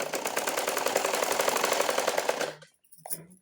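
An electric sewing machine stitches the neck of a blouse, a fast steady needle rattle that runs evenly for about two and a half seconds and then stops, followed by a few faint handling knocks.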